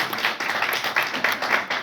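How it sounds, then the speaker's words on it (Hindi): An audience at a school event in Chhindwara claps for a speaker coming to the stage, a brisk round of close, sharp claps with a lively uneven rhythm. "आदरणीय मनीषा मिश्रा मैम से निवेदन करूंगा, तालियां अपेक्षित है आप सभी से।"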